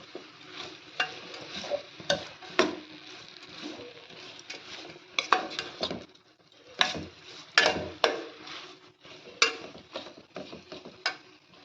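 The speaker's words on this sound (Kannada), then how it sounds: "ಬೀಟ್ರೋಟ್ ಮತ್ತು ಬಟಾಟೆ ನಾನು ಒಟ್ಟಿಗೆ ಹಾಕ್ಕೊಂಡೆ ನೋಡಿ ಚೆನ್ನಾಗಿ ಮಿಕ್ಸ್ ಮಾಡ್ಕೋಬೇಕು" Beetroot and potato pieces stirred in a frying pan, a spoon scraping and clattering in irregular bursts over a soft sizzle, close by with pauses between strokes.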